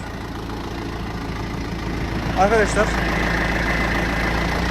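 A tractor engine idles and rumbles steadily as the machine maneuvers forward and backward, a continuous close mechanical drone with a brief squeal partway through and someone speaking over it.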